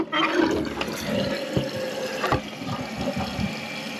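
Water rushes into a toilet tank as it refills through a newly installed fill valve, a steady faint hiss and gurgle with a few small knocks, heard alone.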